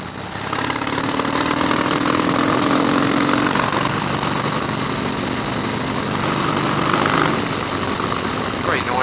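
A Harley-Davidson Softail Custom motorcycle engine runs loud and steady near at hand for the whole stretch, a broad continuous rumble with a brief higher tone early on and a small surge toward the end.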